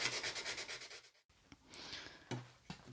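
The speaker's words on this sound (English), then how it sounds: "finally we'll go to the fine grit to just polish everything off and get this ready for finishing" Fine-grit sandpaper rubbing over a small backsaw during restoration, a steady rhythmic back-and-forth scraping that pauses briefly, then resumes as slower, scattered strokes with a few sharper scuffs.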